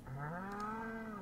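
A cow in the farming video game Stardew Valley gives one drawn-out, clear moo that rises slightly in pitch, close and alone with no talking.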